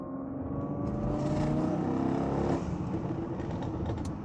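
A supercar cruising on the road in automatic mode, its engine a steady close drone that swells slightly and then eases under constant wind and road noise, with no voices.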